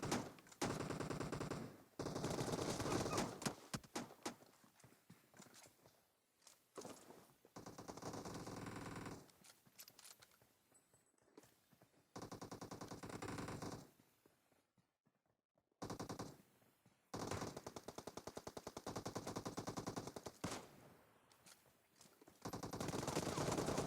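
PUBG Mobile gunfire rattles in repeated automatic bursts, loud and close, separated by short gaps and quiet stretches, with rapid sharp shots in the game's combat.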